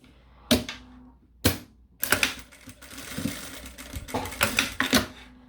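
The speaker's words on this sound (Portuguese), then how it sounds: "Deixamos aqui rente a extremidade do zíper e vamos passar aqui uma costurinha" A sewing machine stitches along the edge of a zipper while sewing a folding accordion wallet, giving short mechanical bursts and clattering runs of stitching close by, with brief pauses between them.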